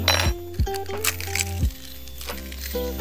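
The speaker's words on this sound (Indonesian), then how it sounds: "Ini sebetulnya cangkangnya bisa ya kita remas, kita masukkan, gak apa-apa," Crushed eggshells fall into a glass with a few sharp clinks and crackles, close and fairly loud, over a steady low hum.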